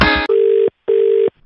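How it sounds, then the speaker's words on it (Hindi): A telephone call drops, ending in a short burst of noise followed by two evenly spaced, loud, flat beeps of the hang-up tone, each lasting under half a second. "मैं फोन काट रहा हूँ"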